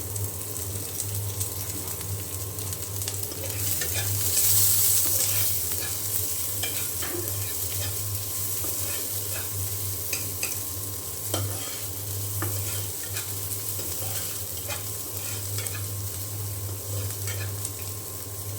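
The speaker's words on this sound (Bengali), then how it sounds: "পেঁয়াজ ভেজে নেব। সরিষার তেল দিয়ে, একদম খাঁটি সরিষার তেল।" Onions fry in pure mustard oil with a steady bubbling sizzle and frequent stirring scrapes in the pan, close and even for the whole stretch.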